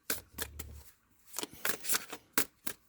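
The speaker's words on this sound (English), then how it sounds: "I'm going to have a little bit of a hard time shuffling these" Tarot cards riffle and slap in a series of quick bursts of shuffling at close range, with short pauses between the bursts.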